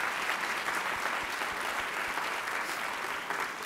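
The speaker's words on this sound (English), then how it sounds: "Let's give them a round of applause." Steady, dense applause fills a hall at a university Founder's Day convocation. A full audience claps evenly and loudly throughout, with no talk over it.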